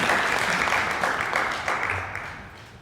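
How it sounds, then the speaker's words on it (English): An award ceremony audience gives Bruce a warm round of clapping, the crowded patter holding steady and then thinning and fading away toward the end. "So let's give Bruce another round of applause."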